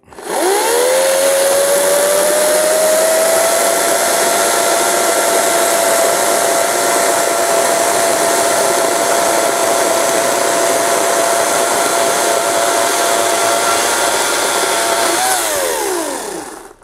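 An EGO CS1401E battery chainsaw with a 35 cm bar cuts steadily through wood, its loud electric whine rising at the start, holding a constant high pitch for about fourteen seconds, then dropping away as the cut finishes.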